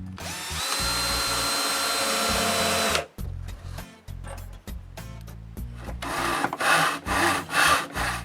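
A power saw cuts wooden window moldings for a cabin window: a steady loud whine for about three seconds, then several shorter cuts and rasping strokes up close, with no talking.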